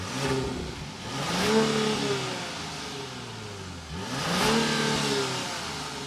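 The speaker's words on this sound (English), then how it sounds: "start it up so you can hear that exhaust note" A Genesis GV80 twin-turbo 3.5-litre V6 revs twice, about three seconds apart. Each rev swells to a deep growl and falls back to a low idle.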